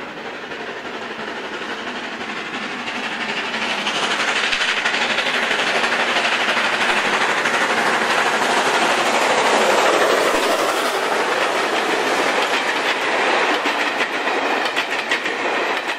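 A Travelling Post Office train on the Great Central Railway passes close by, its rumble building over a few seconds into a loud, sustained roll with rhythmic clickety-clack of wheels on rail joints before easing slightly.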